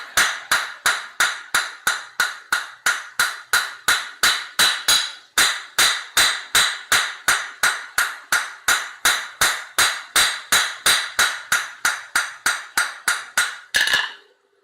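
A hammer rings on an anvil in a forge in a steady, rapid series of sharp metallic strikes, several dozen in a row at an even rhythm, loud and close, before stopping abruptly.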